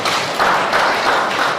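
Audience at a revenue authority address, applauding in a brief, dense burst of clapping at moderate loudness.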